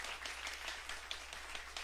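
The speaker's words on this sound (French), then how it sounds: "Encore une fois, je vous demande d'applaudir chaudement" Audience applause at a 2019 Podium quartiers neighbourhood music showcase, following a group's live set: a steady, dense wash of many hands clapping at moderate volume, sustained evenly throughout with no voices over it.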